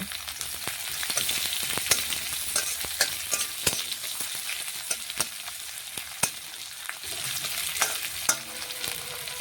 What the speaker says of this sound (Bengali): এখন দিয়ে দিলাম পেঁয়াজ কুচি পেঁয়াজ একটু ভেজে নেব